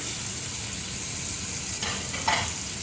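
A steady, loud sizzle of steak frying in a hot pan fills the clip, with a couple of brief louder spits near the end.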